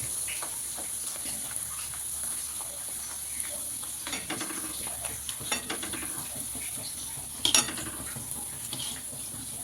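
Naan puri dough frying in hot oil, a continuous bright sizzle and crackle at close range, broken by occasional utensil taps and clinks.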